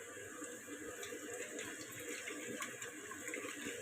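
Tilapia (jilebi) fish being rinsed in water: a steady, soft wash of running and sloshing water, fairly quiet and continuous throughout.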